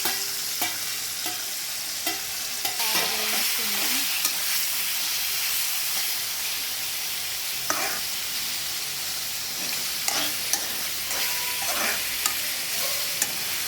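Broad beans frying in hot oil, a loud continuous sizzle close up, with repeated scraping and clinking as they are stirred around the pan.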